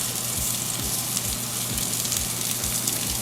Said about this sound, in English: we just want to cook this until the mushroom softens